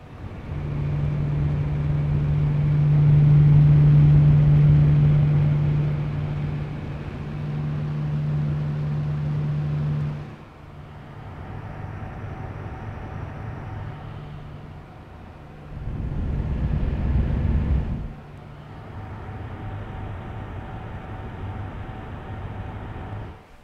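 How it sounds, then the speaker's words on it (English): SilverStone Raven 4 PC case fans running at the high 1200 RPM setting give a steady, continuous whir with a low hum, and the level shifts slightly partway through. "what to expect from the low setting and the high setting on the fan controller"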